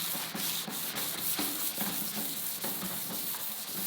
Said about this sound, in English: let's start scratching because we don't need smooth surfaces